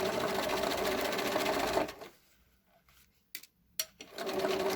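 Sewing machine top stitching a fabric scrunchie with a longer stitch length, a fast steady motor-driven stitching buzz that stops, followed by a few quiet clicks and short bursts before the machine runs again.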